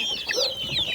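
Farmyard chickens cluck and squawk nearby in a short, busy burst of overlapping calls, with no talking.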